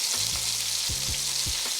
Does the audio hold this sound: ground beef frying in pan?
yes